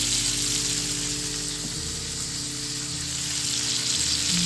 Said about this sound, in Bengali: আমার তেল গরম হয়ে গেছে, হলুদ